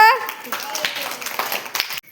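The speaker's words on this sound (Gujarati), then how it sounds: "તાળીઓ પાડી દો." A group claps in quick scattered bursts, mixed with people talking over the applause.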